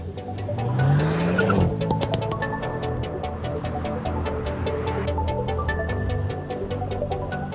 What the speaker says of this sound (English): I will just press the accelerator with the right foot. Then the engine will rev up to 3000 and whenever I want to go, I just lift the brake.